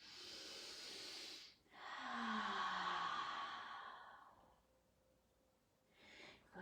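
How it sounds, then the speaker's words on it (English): Deep, slow breaths drawn and released during a yoga flow, each exhale a long airy rush that fades before a short quiet pause, close and clear with no talking over it. "Breathe deeply."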